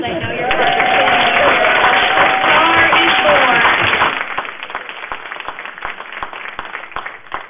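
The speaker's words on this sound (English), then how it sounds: "I'm going to stand up for a round of applause." A council meeting audience in Scarborough, Maine breaks into dense, loud applause that holds for about four seconds, then thins into scattered individual claps that fade.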